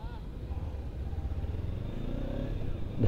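A Kawasaki Ninja 300 motorcycle turns around at night, its engine running steadily at a low idle-like rumble for a few seconds, close by, with people talking over it.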